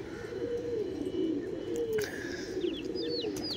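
Pigeons cooing in a loft, steady low throaty coos rolling continuously with a few faint higher bird chirps over them.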